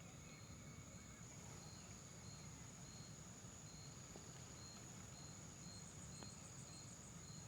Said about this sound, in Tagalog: Ang tahimik, puro kuliglig lang, saka huni ng ibon yung maririnig nyo dito